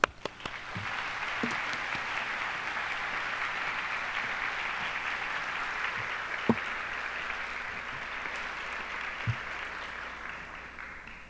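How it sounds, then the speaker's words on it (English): A large conference audience at a sustainable development forum applauds steadily for the Queen of the Belgians, a sustained, fairly distant wash of clapping with a few louder knocks now and then. "Let's greet her with a warm round of applause."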